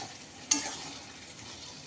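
Meat and tomato are stirred in a pan of frying food in a home kitchen, with a steady low sizzle and two sharp scrapes of the spoon against the pan, one near the start and one at the end.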